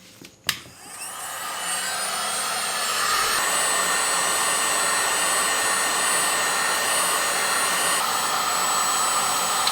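A hot air blower switches on with a click and spins up to a loud, steady rushing whine while heating a computer mouse to soften its adhesive feet, running continuously with no speech.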